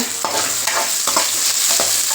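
Steady sizzle of chopped garlic and onion frying in hot oil, with a few soft scraping stirs at regular intervals, close by and fairly loud.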